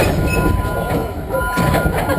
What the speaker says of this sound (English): the train will be moving in just a moment